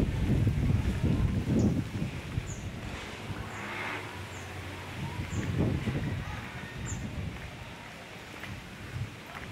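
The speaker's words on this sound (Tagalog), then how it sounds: "Mahangin sa labas." Gusty wind blows outdoors along a quiet road, rumbling and buffeting the microphone in swelling waves, with faint bird chirps in the background and no voices.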